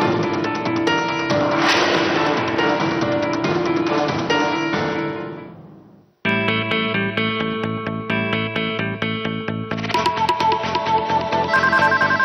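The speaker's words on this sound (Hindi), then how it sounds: "नीतू, फोन देख बेटा" A bright electronic ringtone melody plays loudly, stops briefly, then repeats with the same chiming tune, clear and close with no voices.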